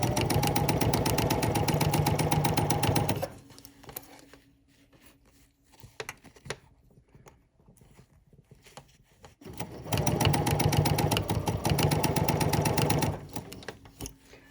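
A sewing machine runs in two steady bursts of about three seconds each while stitching pinned fabric for pattern weights, with a quieter stretch of handling noise between them.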